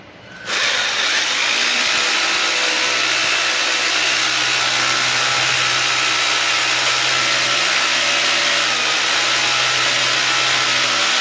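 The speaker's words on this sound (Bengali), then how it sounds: "কিচেনে এবারে ড্রিল করছি" A power drill runs during kitchen board framing work, starting abruptly and then holding a loud, steady, unbroken whirring roar throughout.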